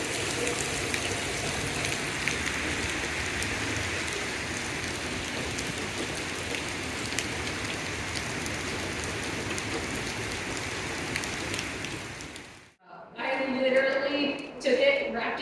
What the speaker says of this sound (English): Just waiting on the rain to stop.